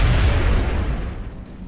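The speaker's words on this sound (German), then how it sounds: "Ein cooler Mechanismus, das mit dem Explodieren der Wägen." A car exploding in the video game XCOM Enemy Within, heard as a loud, close, roaring blast that fades over under two seconds.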